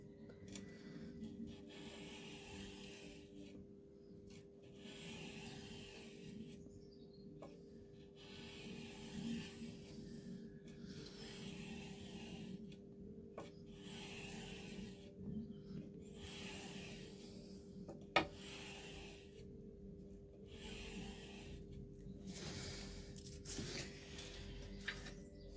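Steady hand sanding of a chef knife blade with worn, dull sandpaper, a soft repetitive rubbing and rasping in rhythmic strokes, separated by brief pauses, close and fairly quiet.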